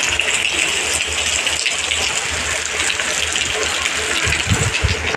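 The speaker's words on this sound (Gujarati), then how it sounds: "વરસાદ ચાલુ છે" Heavy monsoon rain pours near the Banas river among farm fields, a dense, steady close-up hiss of falling water with a few louder splashes near the end.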